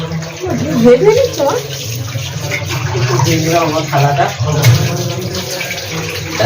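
Tap water runs and splashes steadily while dishes are scrubbed and rinsed in a home kitchen after a meal, close and fairly loud with small clinks throughout.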